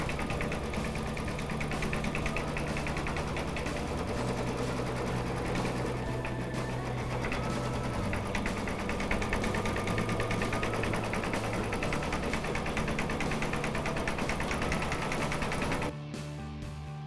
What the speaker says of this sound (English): it's going to take 31 minutes to stitch my monogram